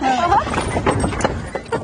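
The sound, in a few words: young horse neighing impatiently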